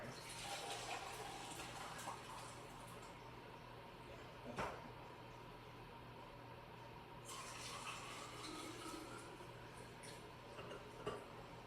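Water poured into a kombucha brewing container, a faint, steady trickle and splash that runs on quietly with a couple of small knocks, low and close with no voices.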